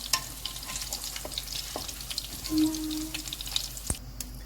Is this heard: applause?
no